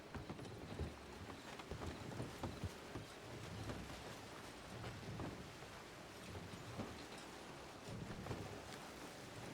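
Horse hooves clip-clop in an outdoor scene of the video game Red Dead Redemption 2, a steady uneven patter of steps under a wash of rain-like background noise, moderately close.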